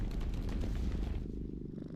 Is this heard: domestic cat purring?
yes